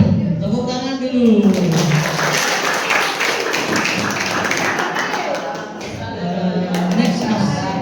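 Junior high school students at a talk on the dangers of early marriage break into applause, a dense, loud wash of clapping that carries on steadily, with voices talking at the start and end.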